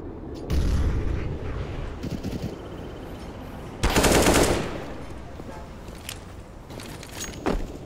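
A CZ pistol fires in Counter-Strike on the Overpass map during a competitive esports match, with loud, close bursts of rapid shots, a heavy blast midway and faint footsteps between volleys.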